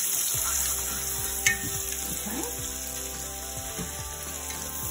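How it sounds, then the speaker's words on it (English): Onions sautéing in bacon grease, a steady close sizzle and crackle with occasional stirring scrapes over a constant background hum, no talk. "I'm gonna put some onions in it. I'm gonna saute our onions for a couple of minutes."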